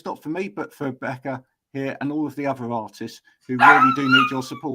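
A dog barks loudly near the end, overlapping a person talking.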